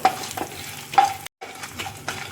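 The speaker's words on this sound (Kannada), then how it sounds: "ಮೊದಲು ಇಷ್ಟನ್ನು ಹಾಕಿ ಸ್ವಲ್ಪ ಫ್ರೈ ಮಾಡ್ಕೊಳ್ಬೇಕು." Garlic and ginger fry in a pan with a crackling sizzle, punctuated by a few sharp spatula scrapes and clinks against the metal, and a short gap of silence midway.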